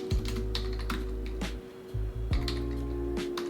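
Someone types a terminal command on a computer keyboard, with a short burst of close, crisp key clicks broken by a couple of brief pauses.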